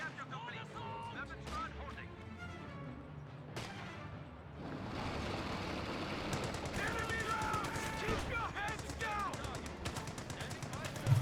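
Machine-gun bursts and scattered gunfire from a Company of Heroes 2 match, steady rapid fire running through the clip and growing denser in the second half, with a commentator talking over it.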